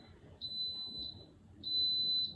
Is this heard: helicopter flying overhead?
no